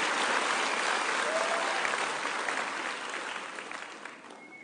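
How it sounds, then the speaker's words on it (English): An audience at a spring commencement claps for the volunteers, a dense, steady round of applause that gradually fades toward the end. "Can we have a round of applause for all of our volunteers"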